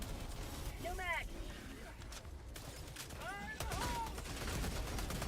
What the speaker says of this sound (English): in front of me when I'm opening fire